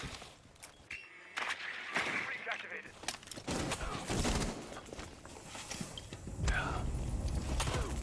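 AK-12 gunfire in an esports match, scattered sharp shots and bursts amid footsteps and mechanical clatter, heard under steady commentary from a caster.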